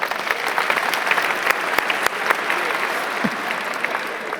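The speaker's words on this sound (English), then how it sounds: "Let's have a round of applause" Lively audience applause at a livestreamed pitch event in the Netherlands, a dense wash of clapping with a few sharper claps standing out, steady and fairly loud for the whole stretch.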